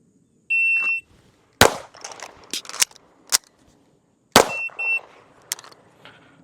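A shot timer sounds sharp electronic beeps during a shooting drill with a pistol fitted with a Sharp Bros grip, each beep followed by a burst of loud gunshots: one beep, four shots, then a second beep and another string of shots.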